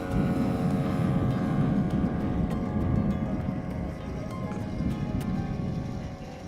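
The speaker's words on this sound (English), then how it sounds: "Engine start." A small subscale UAS aircraft engine runs with a steady, buzzing drone and a rough low rumble, fairly constant throughout, with faint voices in the background.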